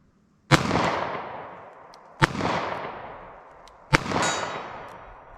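Three sharp .38 Special revolver shots spaced about one and a half seconds apart, each a loud crack ringing into a metallic clang on a steel target at 50 yards, with decaying ring between shots.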